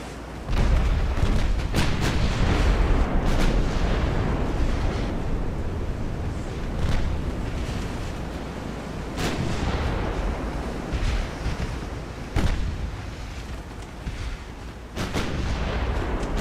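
Naval artillery from big-gun warships in Ultimate Admiral: Dreadnoughts, a China 1890 campaign. Heavy booming salvos come one after another, with sharp cracks over a continuous roaring rumble that lasts throughout.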